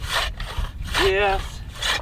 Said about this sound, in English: The saw is by far the most draining part of this.